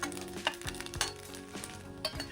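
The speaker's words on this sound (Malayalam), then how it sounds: "ഈ ചെറുതായി അരിഞ്ഞു വെച്ച തേങ്ങയും കശുവണ്ടിയും കൂടി ചേർത്ത് നന്നായി ബ്രൗൺ കളറായി മൂപ്പിച്ചെടുക്കണം" Finely chopped coconut and cashews fry in ghee with a quiet, steady sizzle, while a spoon stirs and clinks against the pan a few times.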